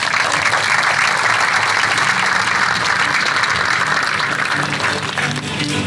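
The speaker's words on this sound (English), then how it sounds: "please give all the people who attended and people who worked on that a round of applause" A large audience at a Chula Vista State of the City 2024 address applauds steadily for people who attended and worked on an event, a dense, loud wash of clapping that holds at an even level for the whole stretch, with no talk over it.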